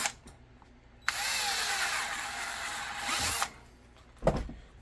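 Power drill boring holes through a holster mold, a steady high whine running about two seconds, followed by a short sharp clatter.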